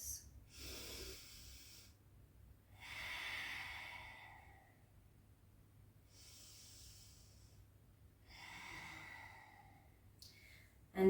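Slow, deep breathing during a yoga class, four or five long airy inhales and exhales spaced a few seconds apart, close and soft, with no talk over them.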